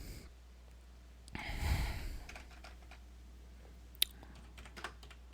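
Quick keystrokes on a computer keyboard as a zip code is entered, faint clicks scattered through a quiet room, preceded by an audible breath or sigh, with no talking.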